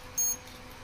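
A Diamond induction stove gives one short, high electronic beep as it is switched on. The beep is quiet and sounds alone over faint background hiss.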